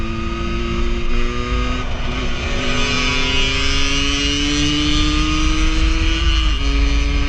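A 50cc moped engine buzzes loud and close, its high-pitched whine climbing steadily as it accelerates past while overtaking on a ride, with constant wind rumble underneath.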